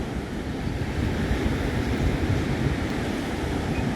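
Ocean waves and wind at Umhlanga beach on a winter's day make a continuous roar of surf, with heavy wind buffeting the microphone throughout and no voices.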